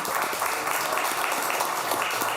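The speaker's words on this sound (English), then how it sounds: "So give yourselves a hand" Steady applause from the audience at a city council meeting, dense and even for a couple of seconds without a break.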